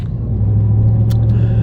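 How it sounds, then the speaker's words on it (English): A truck rumbles past in a residential neighbourhood, a loud, close, low engine drone holding steady through the brief moment with no talking. "shut the fuck up, truck."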